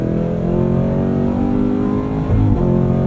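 A Hennessey H1000 CT5 Blackwing on Michelin Pilot Sport 4S tires accelerates hard, its engine holding a loud, steady roar close up with rising harmonics, dipping briefly as it shifts before surging again.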